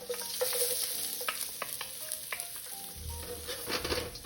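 Garlic sautéing and being stirred in a pan for sardines with egg, a steady close sizzle with scraping stir strokes throughout and a low rumble entering near the end.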